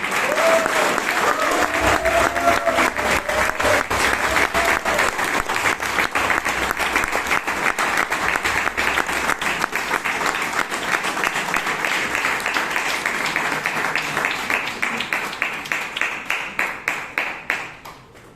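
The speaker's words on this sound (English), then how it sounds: "give a huge round of applause to all the contestants" A large crowd applauds steadily and loudly for a long stretch at a Toastmasters meeting in Bangalore, the clapping thinning out and fading toward the end.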